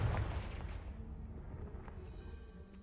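Confringo blasting spell hitting and destroying a debris pile in Hogwarts Legacy, a heavy booming blast that rumbles and fades over a few seconds, loud and alone.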